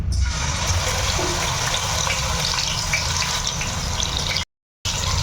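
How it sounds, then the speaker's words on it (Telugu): Onion paste hitting hot oil in a pan while cooking a tuna fish curry, giving a loud, steady sizzling hiss that cuts out briefly near the end. "ఇప్పుడు ఆయిల్లో ఈ పేస్ట్ని వేసుకుందాం"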